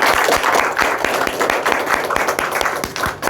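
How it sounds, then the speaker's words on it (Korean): A church congregation claps during worship, a loud, close round of applause with distinct sharp hand claps standing out over a dense, rhythmic patter for a few seconds. "우리 하나님께 영광의 박수 올려드립니다."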